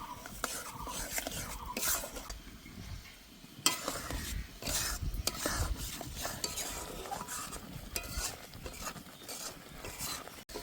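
A jackfruit filling being stirred and dried in a pan, with repeated scraping strokes of a spatula and a faint sizzle underneath, close by and without speech.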